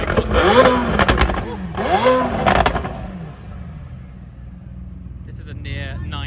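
A McLaren Senna of nearly 900 horsepower with a Rift exhaust system accelerates in loud, close rising bursts with gear-change dips, then fades into a distant drone as it pulls away.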